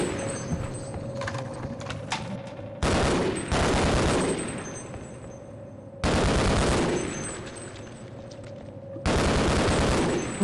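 Bursts of gunfire from the video game Fallout in Vault 112 come in three loud, dense, rapid volleys separated by quieter stretches of ambient game noise.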